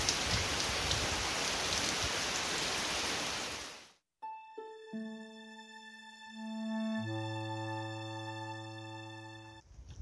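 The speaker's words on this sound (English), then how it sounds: "torrential rain just came down" Torrential rain pours down during a hike on Mt Tsukuba, a loud, dense hiss that fills the first four seconds, then cuts off abruptly and gives way to sustained electronic tones.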